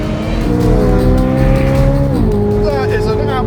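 A Corvette Z06 and a Lotus Emira launch in a drag race, engines roaring loud and close as revs climb steeply, then drop sharply at a gear change before climbing again.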